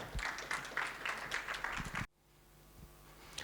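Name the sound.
audience applause welcoming a speaker on stage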